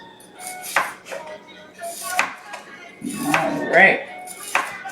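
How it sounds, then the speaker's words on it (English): Vegetables cut into strips on a cutting board, a knife striking through in several separate chops with clatters of the blade against the board, close by, with a voice speaking briefly. "All I'm doing is just making these into strips"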